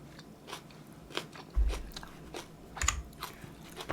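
Crunchy bites and chewing of shredded green onion salad eaten with BBQ tenderloin, close and wet, several distinct crunches spaced irregularly over quiet, with no talking.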